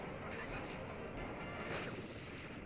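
Cannon blasts in the video game Kirby: Planet Robobot, a few sharp booming shots spaced over a dense, steady bed of game sound.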